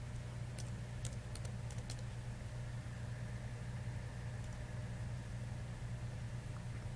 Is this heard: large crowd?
no